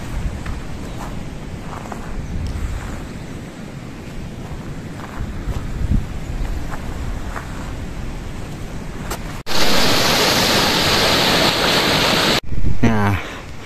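A river flowing beside the Mount Rinjani hiking trail, a steady broadband rush of water heard up close, swelling into a louder, harsher roar for a few seconds near the end.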